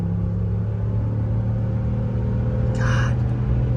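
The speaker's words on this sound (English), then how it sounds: "now I'm gonna blow past them with a trailer on" A vehicle towing a trailer accelerates on a 55 mph road to pass slower drivers, giving a steady, loud engine rumble and road drone from inside the cab.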